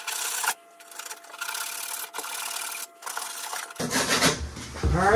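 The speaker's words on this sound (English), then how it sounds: "I'll take this sandpaper and clean up this copper." Sandpaper scrubs old copper pipe in a bathroom remodel, with close, loud rasping strokes in several long passes and short gaps between them, then a rougher, busier scraping toward the end.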